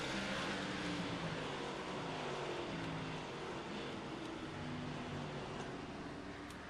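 Stock cars racing at South Boston at the green-flag start, a dense, steady roar of many engines blending together at a distance, with no talk over it.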